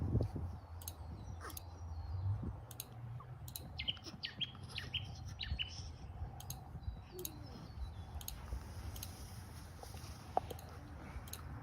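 Birds chirp outdoors on a warm day, with scattered short tweets and calls at a moderate distance over a soft background rumble, with no talking.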